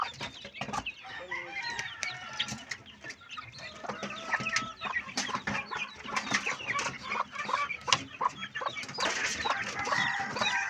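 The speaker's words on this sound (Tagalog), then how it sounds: "Halos puro na manok ang palibot, ang paikot ng bahay." Chickens cluck and call all around a house yard, a busy overlapping flock with occasional rooster crowing, loud and steady throughout.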